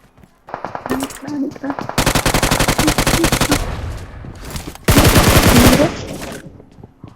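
Loud, rapid bursts of automatic gunfire from a video game on the Livik map, in long volleys, separated by short pauses with faint voices in between.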